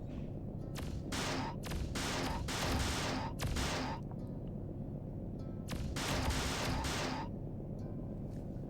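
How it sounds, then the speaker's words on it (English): Rapid missile and weapon fire from the space combat game Freelancer, with dense bursts of loud, noisy blasts in clusters, separated by a brief quieter stretch before another volley. "Cool missile."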